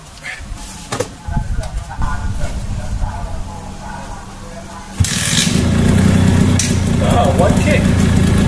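A two-stroke engine with a leaking carburettor and hard starting on choke is kick-started at about five seconds and settles into a loud, steady, buzzing idle, after earlier faint handling noises.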